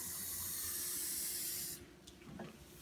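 Water pours onto a Hartz XL puppy potty pad in a steady hissing stream for under two seconds, then cuts off, leaving faint dripping and handling sounds.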